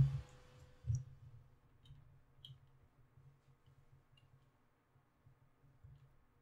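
Faint, sparse clicking from the sci-fi video game Prey, a few soft ticks scattered over a low hum with one or two slightly louder clicks near the start and again around one second in.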